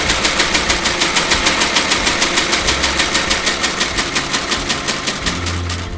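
Loud, rapid, evenly spaced mechanical hammering from boot stitching machines at a boot factory, a continuous rattling burst like machine-gun fire with a running motor underneath.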